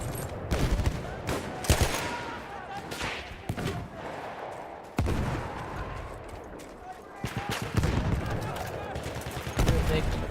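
Gunfire in a realistic war video game, with dense bursts of automatic and single shots crackling near and far in an ongoing firefight, and a player talking over the shooting.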